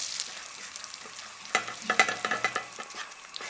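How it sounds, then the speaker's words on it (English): Butter sizzling and frying as it browns in a pan while being stirred for a banana pie filling, soft at first, then a cluster of crackling pops and spoon scrapes close up. "Stir occasionally until the butter turns golden brown."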